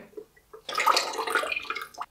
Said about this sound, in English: you have to drop that filter into water, give it a bit of a shake